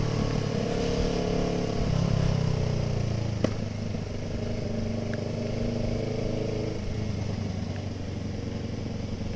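A Kawasaki ER6N motorcycle rides along winding roads, its engine droning close and steady with gear-related shifts in pitch and a brief clack partway through.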